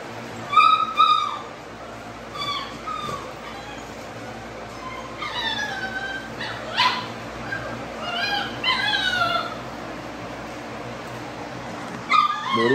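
XL pitbull puppies whimpering and yipping in scattered high-pitched bursts, several overlapping cries close by with short pauses between.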